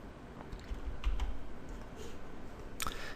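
Computer keyboard keys pressed during programming work, a few sparse, soft clicks and taps heard close by against a quiet background, with one sharper click near the end.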